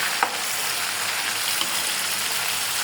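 Chicken chap pieces of breast and leg meat fry in a hot pan with a steady, dense sizzle that holds level throughout, with a couple of faint clicks and no voices.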